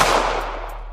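Gunfire ordered by a shout to shoot in a dramatized fight scene: a dense, loud burst of shots that fills the second and then slowly fades, with no voices.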